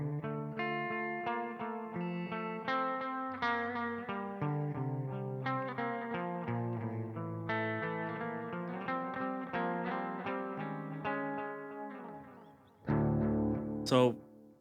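Sustained electric guitar notes through a metal amp simulator ringing out with repeating delay echoes and a lush reverb wash, layered and continuous, ending in a sudden louder swell.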